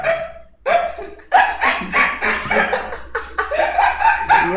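A dog barks repeatedly and loudly in close, rapid bursts, forming a continuous run of sharp barks after a brief pause at the start, with no talking.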